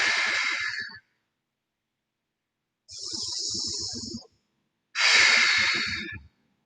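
Deep breathing during a yoga class: three long, airy breaths close to the mic, each lasting one to two seconds, separated by short silent pauses, with no talking.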